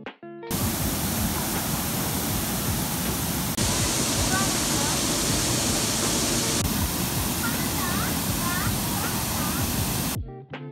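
Tangadan Falls in La Union roars as a dense, continuous wall of falling water close by, steady throughout, with faint chirps and background voices barely showing through.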